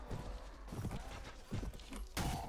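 Horse hooves clip-clopping at a gallop in the video game Mount and Blade: Warband, a quick repeating rhythm of thuds, fairly close, with brief battle noise around them and a short whinny-like burst near the end.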